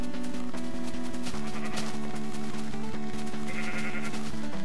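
Sheep in the video game Minecraft bleat over and over, with several overlapping calls that fill the stretch loudly and continuously over a busy background.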